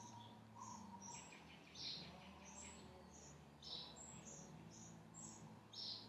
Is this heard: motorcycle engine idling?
no